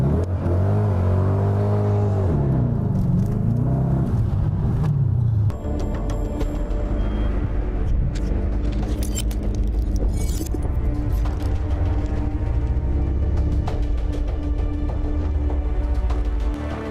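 A Hennessey-tuned 800 hp Dodge Challenger SRT8 engine revs hard, rising and falling in loud, close throttle blips before settling into a deep, rumbling idle with steady mechanical whir.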